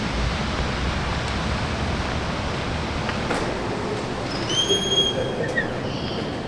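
Steady rumbling train noise fills the clip, a broad continuous roar with faint high whines and squeals near the end, heard from inside a moving Via Rail Venture passenger carriage.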